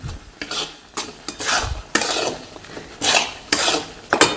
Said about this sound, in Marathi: परत छान असं हलवायचं